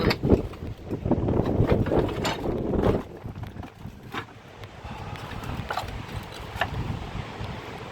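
Strong wind on a hilltop at Riva, Turkey buffets the microphone in heavy rumbling gusts, loudest in the first three seconds, then easing to lighter, uneven blasts.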